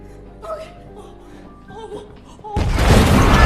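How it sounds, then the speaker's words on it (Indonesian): An explosion in the action film Mr & Mrs Smith erupts as a sudden loud, broad roar that swamps the quieter dialogue and score before it and keeps rumbling to the end. "ledakan terjadi karena ulah Jane."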